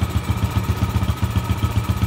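A motorcycle with a freshly adjusted carburettor, running on Pertalite fuel, idles close by with a loud, rhythmic, slightly lumpy putter pulsing several times a second.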